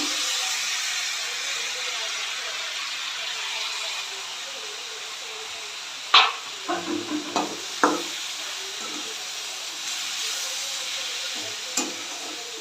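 Tomatoes frying in a pan with bitter gourd for gojju, a steady close sizzle and hiss with a few sharp stirring knocks and scrapes in the middle.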